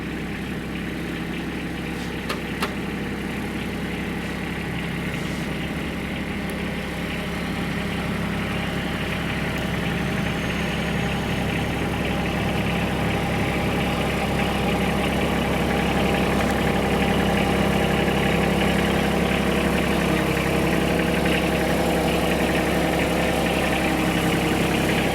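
A 2019 John Deere X758 4x4 diesel garden tractor idles fast and loud up close, a constant dense diesel drone with a heavy low throb that holds unchanged throughout.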